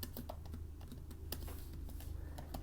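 Rapid keystrokes on a computer keyboard while writing Python code, a quick uneven run of clicks and taps up close over a low steady hum, with no talking.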